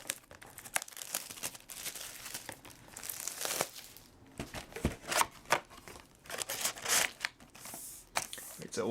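Crinkling and tearing of plastic wrap and cardboard as a Magic: The Gathering Gatecrash booster box is opened, irregular close handling noises in bursts throughout.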